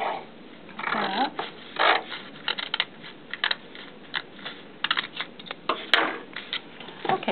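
Material for a replacement book spine is cut with a run of quick, crisp clicking and scraping strokes in an irregular rhythm, close and fairly clear, with a brief sharp tick partway through.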